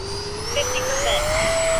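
Habu XS RC jet coming in to land right to left at Fritz Field, a steady high turbine whine with rising pitch, close and loud throughout with no talk.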